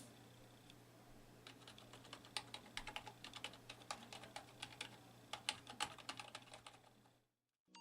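Someone types on a 1byone backlit LED gaming keyboard, quiet irregular key clicks with a few sharper, louder strikes, close up and alone over a faint steady hum, stopping just before the end.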